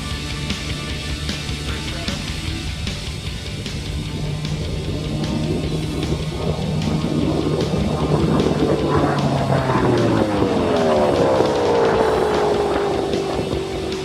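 A Speed Demon land speed race car runs on course, its engine note rising into a loud, sustained whine that climbs and sweeps upward as it accelerates, with a steady low drone beneath and no talk.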